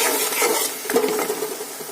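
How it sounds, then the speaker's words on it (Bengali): Spice paste being fried and stirred in a pan for a bhetki fish curry, giving a close, continuous sizzle with soft scraping throughout a short stretch. "এবার মশলাকে ভালো করে কষাতে হবে।"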